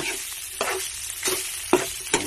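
Garlic and onion sizzle in hot cooking oil in a pan while being stirred. A steady frying hiss runs underneath, punctuated by four distinct scraping stir strokes at uneven intervals, close by, with no voices.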